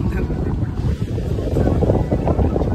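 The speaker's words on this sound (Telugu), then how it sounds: "చల్లగా గాలి వస్తుంది" Cool sea wind rushes over a boat off Kanyakumari, a steady low roar buffeting the microphone throughout, with no clear talk.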